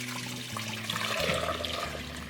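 Chicken broth poured from a container over chicken breasts in a medium-sized pot, a continuous splashing gurgle of liquid that swells slightly midway, close and alone without speech.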